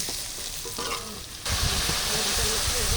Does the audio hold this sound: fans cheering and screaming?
no